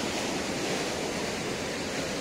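Strong, steady rush of water at a hot spring, a dense unbroken roar filling the clip at close range with no voices.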